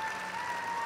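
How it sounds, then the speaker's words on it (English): Korean skaters and fans at a junior figure skating event in Ostrava cheer and applaud, a dense, steady burst of crowd noise. "A wonderful cheer from the Korean skaters and fans."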